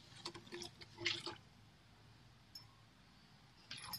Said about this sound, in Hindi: ये देखिए इसका पानी हम इसमें डाल रहे हैं।